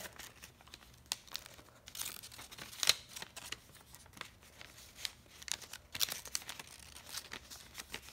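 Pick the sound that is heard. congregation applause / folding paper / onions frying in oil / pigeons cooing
folding paper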